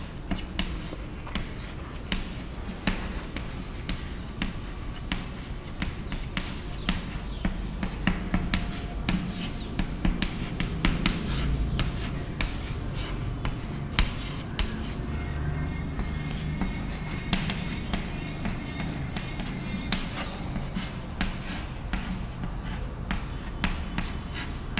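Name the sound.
writing a definition by hand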